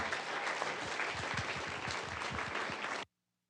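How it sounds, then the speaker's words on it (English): A school board meeting audience gives a full round of applause for a coach and his team, a dense steady wash of clapping that stops abruptly after about three seconds. "big round of applause for Coach Gilmore and his team"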